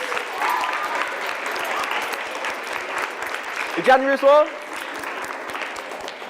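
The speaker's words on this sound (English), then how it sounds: "give them a massive round of applause for the January babies" A hall of primary school children claps steadily and loudly throughout, with a speaking voice rising briefly above the applause partway through.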